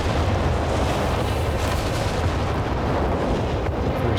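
A Nebelwerfer rocket artillery barrage in the Company of Heroes 3 battle game makes a loud, dense, unbroken roar of launches and explosions with no pauses.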